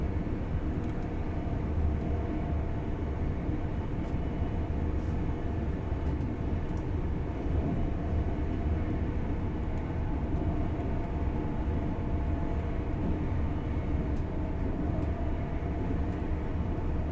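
Steady, continuous rumble of a train thundering along a UK route toward Newark in the simulator game Train Sim World 4. It holds loud and even throughout, with no talk.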